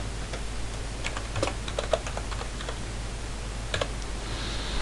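Someone types on a computer keyboard, with quiet irregular clicks and short bursts of keystrokes, some clustered and some spaced apart, against a faint steady background hiss.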